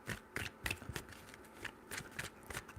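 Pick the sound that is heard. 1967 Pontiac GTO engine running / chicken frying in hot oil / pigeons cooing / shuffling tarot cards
shuffling tarot cards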